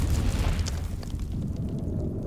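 A grenade explosion in the Dune Awakening video game, a close, heavy rumbling boom whose noisy tail fades over about two seconds.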